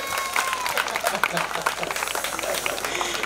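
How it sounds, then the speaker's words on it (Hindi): Audience clapping at a cyber crime awareness session in Nagpur, a steady patter of many hands close by with voices talking over it throughout. "एक बार उनके लिए ताली बजाओगे"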